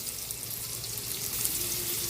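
Garlic sizzles in melted butter in a pan, a steady hissing crackle with fine popping that grows slightly louder partway through, close and alone.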